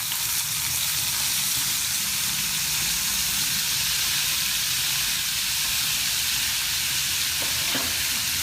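Skin-on potato pieces fry in a pan for a Gujarati sabji, giving a loud, dense, hissing sizzle that stays constant throughout, with a brief clink near the end.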